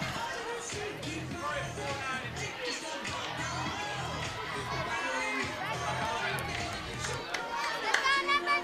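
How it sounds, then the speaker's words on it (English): Crowd noise at a college softball game: steady murmur of chatter with scattered shouts and cheers, some children's voices, holding an even level throughout with a slight swell near the end. "Surprising big crowds considering we have a basketball game going on"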